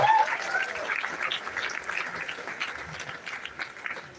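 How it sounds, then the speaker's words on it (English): A convocation audience for the March 2024 PG-DBDA and PG-DAC batch breaks into a round of applause, a steady wash of many clapping hands that fades gradually, with a faint voice near the start. "Please give all of them a big round of applause"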